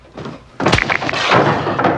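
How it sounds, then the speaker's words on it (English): A horror-movie sound effect of a meat hammer smashing into a skull: a heavy, wet crunching thud strikes suddenly and is followed by a loud, messy squelching crush that fills the rest of the moment. "When that meat hammer smashes into Brett's skull"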